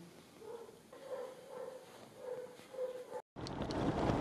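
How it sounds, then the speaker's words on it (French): A dog in Bolivia barks several times at a distance, spaced yips and woofs over wind noise outdoors, then a sudden cut to louder broadband rumble. "ici en Bolivie, il y a des chiens partout"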